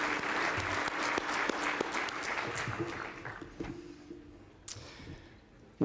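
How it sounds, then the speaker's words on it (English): A crowd gives a big round of applause at a real estate competition night: dense, loud clapping that thins into scattered individual claps and fades toward the end, with faint voices mixed in. "I just want to give everybody a big round of applause"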